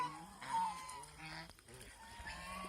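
Geese honk on a goose farm in Mohanganj, Netrokona, a faint cluster of overlapping nasal calls and cackles.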